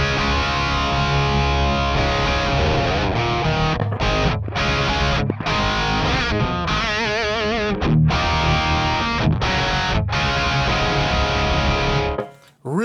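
Electric guitar played through a Lichtlaerm Audio Ragnarök preamp pedal set for crunchy distortion: loud chugging riffs and sustained chords with short choked pauses, cutting off at the end.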